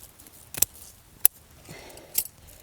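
Pruning shears snip plant branches in a food forest after frost, three sharp separate clicks spread over a couple of seconds with faint rustling between, close and quiet, no talk.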